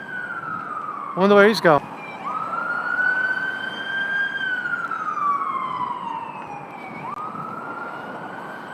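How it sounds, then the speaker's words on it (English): An ambulance siren wailing in New York City, a rising and falling tone heard from a street, fairly loud over traffic noise, with someone briefly speaking over it. "Well, there's an ambulance."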